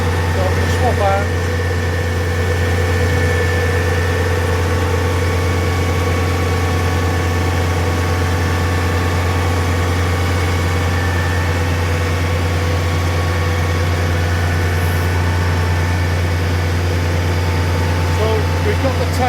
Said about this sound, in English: I'm going to stop the pump just for a moment, just to make it easier so you can hear me.